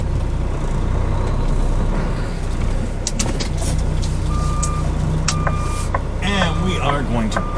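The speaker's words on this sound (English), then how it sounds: "And we are going to back up." A truck backs up with a trailer, its engine rumbling steadily while a few reversing beeps sound partway through, and someone talks over the noise.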